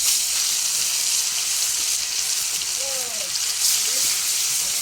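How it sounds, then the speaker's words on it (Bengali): Fish sizzles and crackles steadily in hot homemade mustard oil in a home kitchen, a dense, loud hiss throughout with a brief voice in the background. "মাছ ভাজা হয়ে গেছে"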